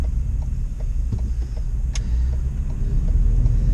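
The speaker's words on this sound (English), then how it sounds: "Feels like you're in a brand new vehicle when you unload something heavy." A cargo van driving along a city street after unloading about 3,300 pounds of cargo, its engine and road noise forming a loud, steady rumble with faint ticks and rattles on top.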